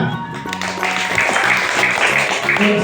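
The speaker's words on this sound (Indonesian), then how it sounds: "Tepuk tangan." A classroom of students claps together in a brief burst of rhythmic hand clapping, fairly close and loud, with faint voices mixed in.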